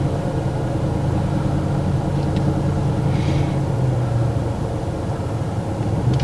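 Steady traffic rumble from cars passing on a road near a practice car during a driving lesson, a continuous low drone with no clear individual pass-bys.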